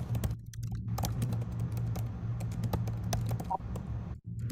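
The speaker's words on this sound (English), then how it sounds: "I'm hearing keyboard typing." Steady, fast keyboard typing with a continuous low hum underneath, keys clattering rapidly and close by.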